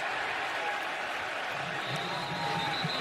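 A dense roar from a packed college football stadium crowd at a Missouri vs Oklahoma game, loud and continuous from start to finish, with a commentator's voice underneath.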